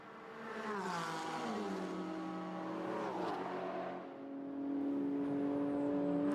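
GT4 race cars, an Alpine and a Porsche Cayman, scream past on the Jeddah circuit, their engines howling at high revs and shifting pitch as they pass, then a second car's steady whine builds up close.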